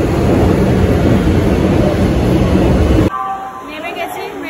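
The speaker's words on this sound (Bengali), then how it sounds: "এসে গেছে মেট্রো" A metro train pulls into a station with a loud, dense rumble that stops abruptly, leaving quieter station ambience and faint tones.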